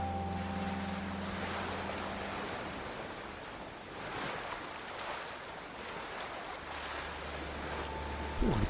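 Ocean waves surge against a beach in Ghost of Tsushima as the character swims out through the surf, a steady, close, rushing wash with a low hum beneath and no talking.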